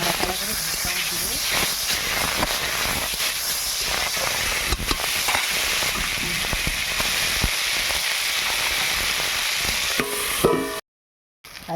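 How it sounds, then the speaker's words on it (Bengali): Potatoes frying in oil in a pan, a dense continuous hiss and sizzle close up with occasional stirring sounds, lasting throughout before a brief silence at the end. "আলুটা ভাজা ভাজা হয়ে গেছে"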